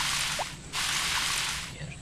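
Watering plants in the Harvest Moon farming game on PS1, a soft liquid splashing swish that repeats twice with a short gap, steady and close with no talk.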